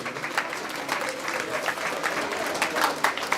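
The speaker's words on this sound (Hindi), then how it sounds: "ताली बजा करके सम्मान करेंगे।" An audience at an Akhand Navdha Ramayan religious gathering claps to honor the performers on stage, a dense, steady round of applause that continues for the whole stretch.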